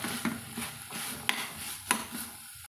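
Grated coconut is stirred into black chickpea masala sundal in a pan, producing soft scraping and clinking of a spoon against the pan, with a couple of sharper knocks and a faint sizzle, no voices.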